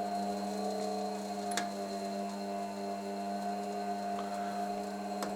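Motor of a Blomberg WNF6221WEN washing machine running in service-mode test, a steady close electrical whine with strong tonal hum and faint ticks throughout, no speech.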